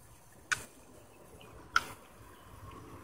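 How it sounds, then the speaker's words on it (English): Ticking from a drip irrigation mixer on a pepper garden watering line: three sharp, evenly spaced clicks about a second and a quarter apart, faint and close, over a low steady background hiss with no talking. "You can hear the mixer ticking."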